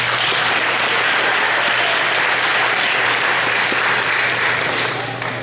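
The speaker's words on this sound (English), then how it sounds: "Let's give them a round of applause" An audience at a Grade 12 French immersion graduation ceremony applauds the graduates with loud, dense, sustained clapping and a faint crowd murmur, easing slightly at the end.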